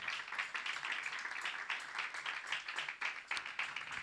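A church congregation at a Spanish-language prayer service claps their hands together, a dense, fairly steady wash of many hands applauding at a moderate distance, with no talking over it.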